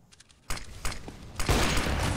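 Gunfire in a Counter-Strike match on the Mirage map: a quiet start, then several sharp loud shots, with a sustained burst of rapid fire toward the end.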